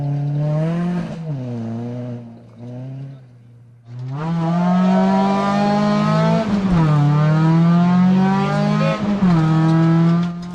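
Slovenian crew's rally car at a 2008 ORC stage, recorded from inside: a loud engine roars and revs hard, pitch climbing and dropping through gear changes, with a short lift-off near the four-second mark before full throttle resumes.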